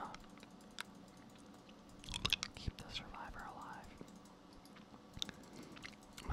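Hard candy is crunched and clicked against teeth in an ASMR session, with close, quiet mouth sounds and scattered sharp clicks under soft whispering and a few keyboard taps.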